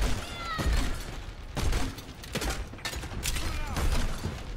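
Several blasts from Junkrat's bombs in the Overwatch shooter, low booming thuds about every second amid busy game noise, moderately loud and close.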